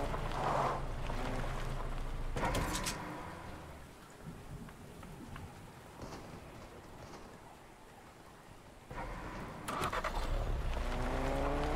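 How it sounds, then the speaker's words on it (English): A car drives in the Fortnite video game, its engine a loud, steady rumble throughout amid rain-like patter, with sharper bursts near the start and again near the end. "There's a car."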